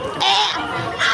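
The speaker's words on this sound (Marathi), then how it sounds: "बदक" A duck quacks loudly and close by in a pair of short, nasal calls separated by a brief pause, with nobody speaking.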